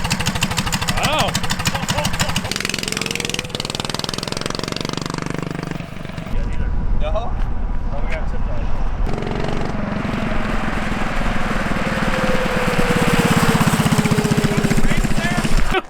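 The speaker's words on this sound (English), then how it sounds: "we're gonna finally test our 420cc pit trike" A 420cc pit trike engine running on open pavement: a loud, continuous, rough engine drone that rises and falls as it revs, close and dominant throughout.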